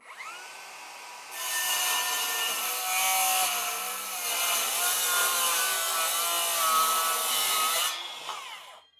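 A Bosch GKS 185 Li cordless circular saw rips through a 36 cm wide, 3 cm thick beech stair tread, spinning up, then holding a loud, sustained whining cut for about six seconds before winding down.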